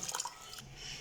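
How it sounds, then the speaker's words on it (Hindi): Water being poured into a pan of simmering black chickpea gravy, a soft wet dripping and squishing close by, faint and brief with no talk. "now I am adding a little bit of water."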